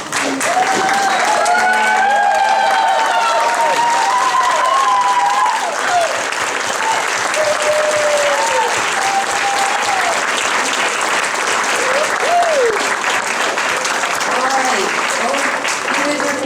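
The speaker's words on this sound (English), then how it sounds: "once you stand and face the audience, and we'll give you a big round of applause." A graduation audience at a Sierra College campus ceremony in Tahoe-Truckee applauds the graduates, a loud, continuous wash of clapping with cheers and whoops rising over it and voices calling out throughout.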